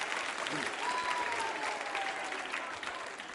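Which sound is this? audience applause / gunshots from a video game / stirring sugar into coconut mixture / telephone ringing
audience applause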